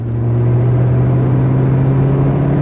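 A 2006 Ford GT engine roars steadily during a ride, a loud, continuous low rumble heard from inside the car with no talk over it.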